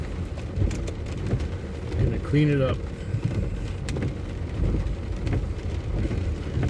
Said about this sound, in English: I just washed the car and it's pouring rain.